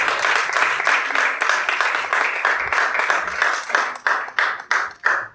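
A church congregation applauds together, dense continuous clapping that thins toward the end into a few louder separate claps.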